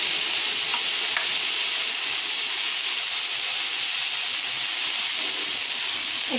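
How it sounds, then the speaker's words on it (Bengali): Ginger garlic paste sizzles in hot oil with fried onions for a village-style hilsa fish curry, a loud, continuous frying hiss with faint stirring clicks throughout, no voices. "এখন এখানে আমি আদা রসুন বাটা দিয়ে দেব"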